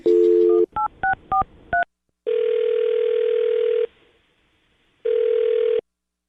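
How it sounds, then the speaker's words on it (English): A telephone number is dialed on a keypad, producing a quick run of distinct DTMF beeps followed by long steady tones, loud and clear with no talk over them. "I'm going to dial his phone number right now"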